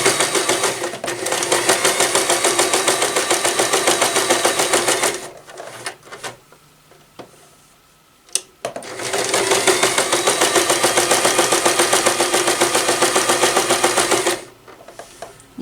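A sewing machine stitches layers of fabric for reusable face wipes in two long, loud bursts of fast, even needle chatter, with a pause partway through where the fabric is turned at a corner.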